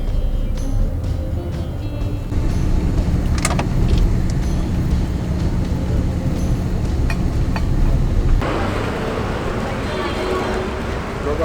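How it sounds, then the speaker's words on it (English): A taxi drives over a badly broken road in Nepal, its engine a steady loud rumble with rattles and knocks throughout, and people talking inside the car. "Another day, another taxi"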